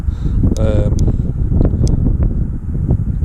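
Wind gusting across a microphone on a kayak during bass fishing, a constant low buffeting roar with a few short clicks and rattles on top.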